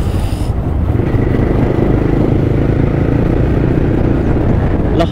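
A motorcycle rides along a rough mountain road, its engine a steady loud rumble with clattering and scraping from the uneven surface, close and continuous with no talking.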